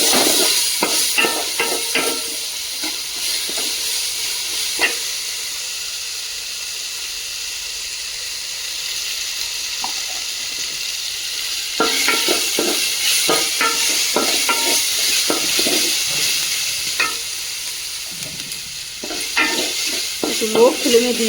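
Chicken for biryani fries in a pan over low flame, a continuous sizzle punctuated by repeated bursts of stirring and scraping, close and clear with no talking.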